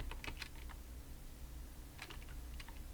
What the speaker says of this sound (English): So I'm going to type in title